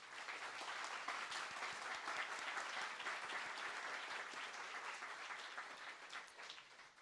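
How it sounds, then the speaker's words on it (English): Sustained applause from a crowded audience at a No NATO–Yes Peace counter summit, dense steady clapping filling the room for several seconds and tapering slightly at the end. "So a big round of applause for Moataz."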